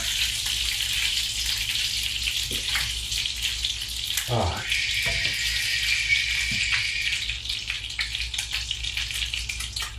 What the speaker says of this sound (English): I'm going to pour the sauce into the meatballs in the crock pot.